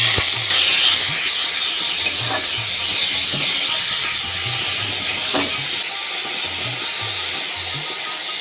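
Thinly sliced potatoes and green chilies frying in a small amount of fish oil, a steady bright sizzle and hiss running throughout with faint clinks underneath, no talking.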